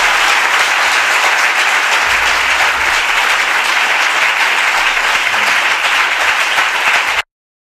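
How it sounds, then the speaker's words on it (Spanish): At the end of a talk in Jerez, an audience breaks into loud, dense applause that holds steady for about seven seconds and then stops abruptly. "Muchas gracias. Un aplauso."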